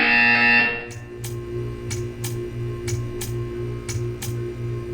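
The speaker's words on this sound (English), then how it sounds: "You will hear a buzzer." A buzzer in the Portal video game: a loud, harsh electronic buzz for under a second, then a rhythmic ticking pulse of short clicks over a low droning hum.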